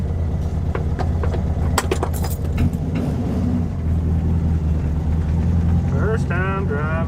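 A 1966 VW Beetle engine, run again after five years of sitting, drones steadily and loudly throughout while the car drives, with clunks and rattles in the first seconds and a voice talking briefly near the end.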